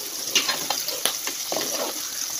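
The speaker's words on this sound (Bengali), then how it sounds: "আলুটা ভেজে নিচ্ছি।" Potatoes fry in hot oil with black cumin and salt, giving a steady close sizzle with scattered crackles and a few sharper pops, no voices.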